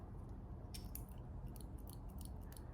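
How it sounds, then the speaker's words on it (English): Small blunt Daiso scissors handled up close, a scattering of faint light clicks and snips over steady background hiss, with no talking. "this is actually a pair of scissors"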